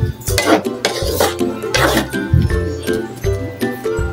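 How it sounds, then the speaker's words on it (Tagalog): Vegetables with pepper and seasoning are stirred in a cooking pot for a birthday meal, with a loud, close, continuous scraping of a utensil against the pot and repeated clinks of metal. "Haluin lang natin ulit guys."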